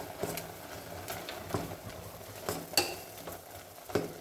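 Ingredients for sambar being stirred and mixed in a pot, with soft scraping and clinking strokes at an irregular rhythm and a few sharper knocks standing out over a low, steady background.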